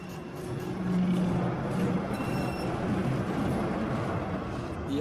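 Vienna tram rolling along its rails, a steady close rumble of wheels with a faint squeal, no voices over it.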